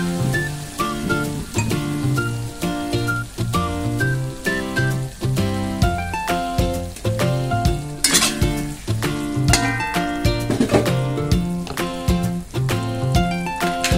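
Thai paprika beef being stirred and fried in a pan, with steady sizzling and a rhythmic scrape and clink of a utensil against the metal, close and continuous.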